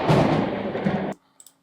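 Thunder crack sound effect: a loud, dense broadband burst sustained about a second, cutting off abruptly, followed by near silence with a couple of faint small ticks.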